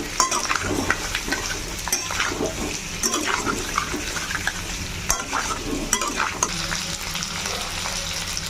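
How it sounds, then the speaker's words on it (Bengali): Potatoes fry in a pan with spices while being stirred, giving a continuous sizzle broken by repeated scraping and clinking strokes of a spoon against the pan. "আলুগুলো দিয়েও ভালো করে ভাজবো এবং সমস্ত মশলা দিয়ে একবারই কষে নেব।"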